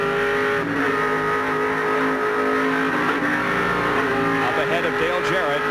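NASCAR race cars roar around the Watkins Glen road course during the 1988 Bud at the Glen, engines droning loud and continuous with rising and falling pitch as they pass, a commentator talking underneath.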